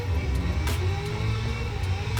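A Formula Drift car slides along the wall at Irwindale while the driver modulates it with left-foot braking. The engine gives a loud, continuous low roar that fluctuates slightly, with short sharp bursts at intervals.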